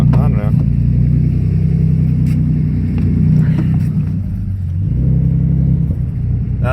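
A twin-turbo V6 in a 2011 Ford Mustang idles loudly on a two-step launch limiter, with a deep, uneven rumble that shifts pitch a few times, close by and continuous.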